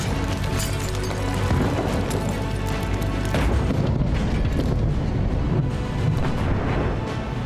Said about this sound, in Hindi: दक्षिणी लेबनान में इजराइल ने आसमान से इतनी बमबारी की कि पूरा इलाका धुआं धुआं हो गया।